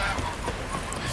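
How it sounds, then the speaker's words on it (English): A goose honks in The Witcher 3: Wild Hunt, short and close over a dense, busy game soundscape that carries faint hoof-like clopping. "Goose. I like the sound of a goose."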